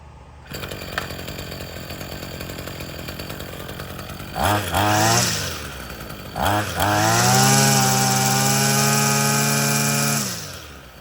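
A Chinese-made gas string trimmer idles with a buzzy two-stroke drone, then revs up hard twice, rising to a loud high scream and holding it before dropping back, close by with no talk.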